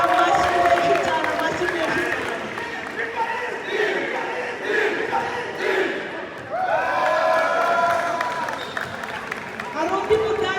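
Crowd at a Rwandan community sports award ceremony in Montreal, Canada, applauding and cheering as a trophy is handed out. The sustained clapping and shouting is loud, dips briefly midway and then swells again, mixed with speech.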